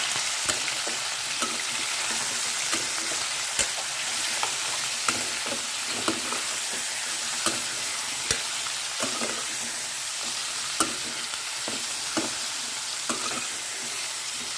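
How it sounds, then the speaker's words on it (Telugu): Chicken pieces frying over a high flame in oil, a steady loud sizzle with frequent scraping stirs and clicks of a spoon against the pan, no voices. "ఆ చికెన్ హై ఫ్లేమ్ పెట్టుకొని ఒక్కసారి బాగా వేయించుకుందాం"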